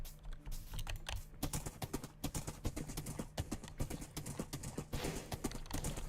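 Horse hooves clip-clop in a steady, busy rhythm in the Minecraft video game, moderately loud and close, with a low background hum and no talking.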